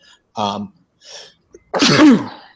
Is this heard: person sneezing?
yes